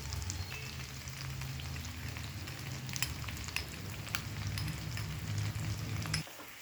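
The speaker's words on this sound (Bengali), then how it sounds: "লঙ্কা বাটা দেওয়ার পর 30 থেকে 40 সেকেন্ড কষিয়ে নিয়েছি" Green chili paste with ginger-cumin paste sautéing in hot oil for a rohu fish curry with new potatoes, a steady dense sizzle with scattered crackles and pops that cuts off abruptly near the end.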